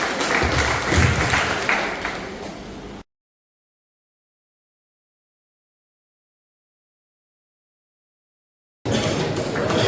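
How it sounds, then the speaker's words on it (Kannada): Audience applause at a district branch gathering of a state government vehicle drivers' association, with clapping mixed with voices, cut off by several seconds of dead silence before the applause resumes. "ಎಲ್ಲರೂ ಚಪ್ಪಾಳೆಯೊಂದಿಗೆ ಅವರನ್ನು ಗೌರವಿಸಬೇಕಾಗಿ ವಿನಂತಿಸುತ್ತೇವೆ."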